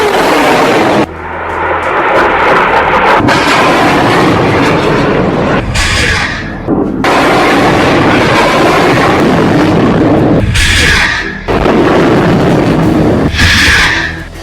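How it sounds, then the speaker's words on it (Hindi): Hamas rockets launching one after another in a salvo, a loud continuous roaring rush with abrupt bursts and cutoffs, several whooshing launches in succession, close and harsh, with no talking. "एक के बाद एक हमास 10 रॉकेट फायर करता है।"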